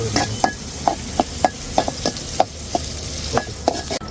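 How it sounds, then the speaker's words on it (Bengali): Onions sizzling in a hot pan in a home kitchen, stirred with a utensil that knocks the pan in a steady series of sharp clacks over a continuous frying hiss, close and clear, no talking. "একটু ভালোভাবে নেড়ে চেড়ে নেবো মানে আমি পেঁয়াজটা হচ্ছে একটু লাল লাল করে নেবো আর ভাজা ভাজা"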